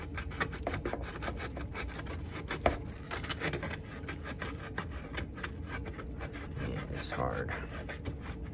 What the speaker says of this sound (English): it's kind of tricky to sand all the crevices right here